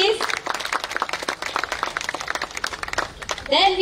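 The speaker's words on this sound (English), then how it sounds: "Round of applause, please." Audience applause greets a folk dancer and academy vice chairman at a civil society meeting with the Chief Minister, steady dense clapping throughout, with a voice briefly starting to speak near the end.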